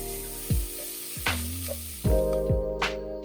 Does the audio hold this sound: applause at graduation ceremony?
no